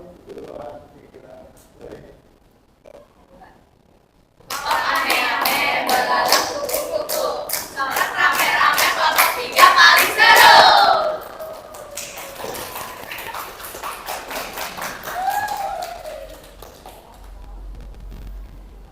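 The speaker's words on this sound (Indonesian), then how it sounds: "tepuk tangan dong untuk kelompok 2 ya" A classroom of students claps for a presenting group: after quiet talk, a sudden burst of lively clapping and taps begins, continuing for several seconds with voices mixed in, then fades back to quiet.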